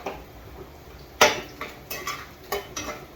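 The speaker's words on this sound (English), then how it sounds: "Remember, you can't fry coconut for too long." Grated coconut fries briefly in oil during Jamaican home-style cooking, heard mainly as a few sharp clinks and scrapes of a utensil against the pot over a faint sizzle, close by and without speech.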